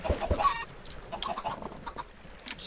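Chickens in the video game Minecraft cluck in a few short, close bursts, with brief squawks spread across the moment.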